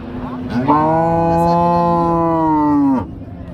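A Friesian cross dairy cow at the Chougachha cattle market gives one long, loud, close moo lasting about two and a half seconds, with faint market noise before and after.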